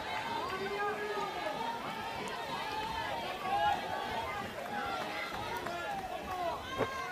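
Crowd noise at a college softball game, Oklahoma against Oklahoma State, a continuous bed of chatter and babble from many people at moderate distance with shouts and whistles rising here and there.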